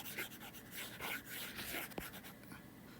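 An eraser rubs across a classroom board during a statistics lecture, making soft, scratchy back-and-forth strokes in short repeated passes that stay faint and close, with no talking.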